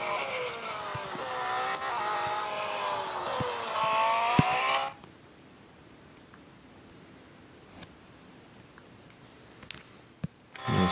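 Race car engine droning loudly at speed on an endurance circuit for about five seconds, then cutting off abruptly, leaving quiet background with a few faint clicks.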